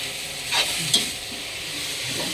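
Pieces of pork neck frying and sizzling in a pan while being stirred, a loud steady hiss with a couple of sharper scraping strokes and no talking.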